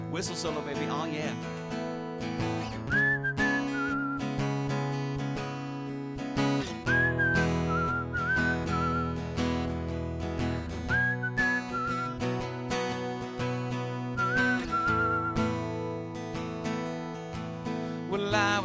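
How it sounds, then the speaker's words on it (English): A whistled melody carries a solo over a full band backing track, the whistle rising above steady instruments in repeated phrases across the passage. "Whistle solo"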